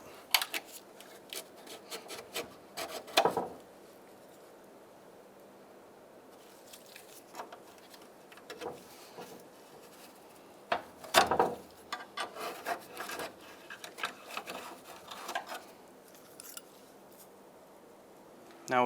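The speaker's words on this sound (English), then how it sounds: "Small flathead pocket screwdriver. Come in from the back, just pry these open," A small flathead pocket screwdriver pries plastic retaining clips loose from the back of a headlight mounting panel on a 1992-1996 Ford F-150, giving bursts of scraping, clicking plastic separated by quieter pauses, close up.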